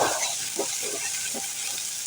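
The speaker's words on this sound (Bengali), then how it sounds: "একটু ভেজে নিব" Ginger-garlic paste fries in hot oil with a steady, close sizzle, broken by a few soft scraping stirs at a regular pace.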